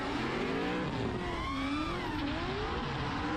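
Race cars at a motorsport race, seen from an FPV drone overhead, with engines rising and falling in pitch as they pass close and loud, tires squealing briefly, and a continuous roar throughout.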